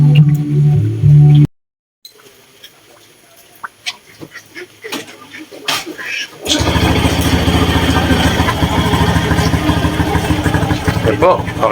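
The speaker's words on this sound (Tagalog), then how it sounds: "Sarado na po natin tapos i-start natin yung motor." A Honda XRM 125 motorcycle engine fires up after a brief quiet stretch with scattered clicks, then settles into a steady, loud idle that runs to the end; a voice is briefly heard near the start.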